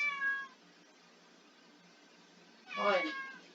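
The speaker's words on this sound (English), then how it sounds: "My cat's being annoying." A domestic cat lets out two meows, a short one at the start and a louder, drawn-out one near the end, with a quiet pause between them.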